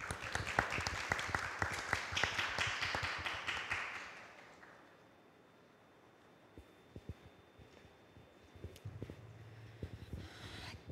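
Audience applause at the Gwangju Democracy Forum 2023, welcoming an activist speaker: a burst of clapping that fades after about four seconds, leaving quiet room tone with a few scattered claps.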